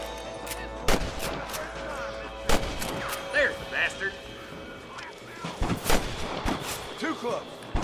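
Gunshots crack out in Red Dead Redemption: several sharp, loud reports spaced irregularly across the scene, with voices talking and shouting between them.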